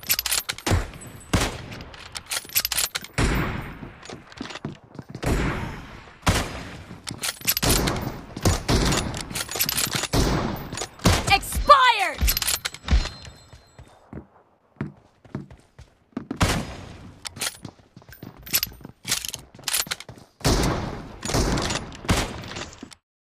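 Kar98 bolt-action rifle shots in a Battlegrounds Mobile India two-versus-two team deathmatch, sharp separate cracks spaced irregularly with brief bursts, fairly loud and close, mixed with footsteps and game sounds.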